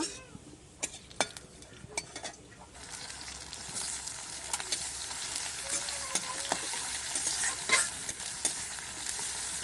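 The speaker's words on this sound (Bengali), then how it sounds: "তেল দিল কড়াইয়ের মধ্যে, তেজপাতা দিয়ে দিল," Bay leaves fry in oil in a kadai over a clay stove, with faint spoon clinks and scrapes at first, then a quiet sizzle that builds and keeps going.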